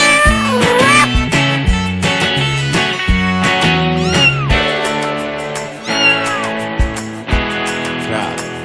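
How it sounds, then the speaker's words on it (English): A cat meows repeatedly, with several clear, tonal meows over a continuous musical backing. "Cat."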